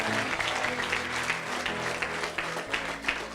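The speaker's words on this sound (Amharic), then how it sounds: "ይሄ ቃል ዛሬ አጨብጭቡ እስቲ ለጌታ።" A church congregation claps together in praise of the Lord, a dense, steady wash of applause filling the room from start to finish with no clear voices on top.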